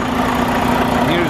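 A 2019 Volvo VNL 760 truck engine with high mileage runs close by, a loud, steady idling rumble with a constant hum and no break.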